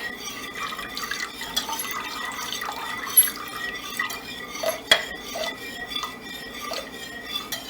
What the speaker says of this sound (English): pour it in a very steady, slow and steady stream, I'm going to use my whisk